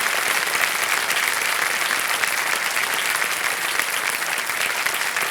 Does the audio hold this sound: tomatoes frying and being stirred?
no